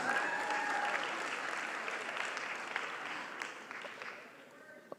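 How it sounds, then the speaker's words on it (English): A small audience claps after a sermon, a brief smattering of applause that gradually thins and fades, with a few sharper claps near the end. "thank you for the 3 claps, I appreciate it."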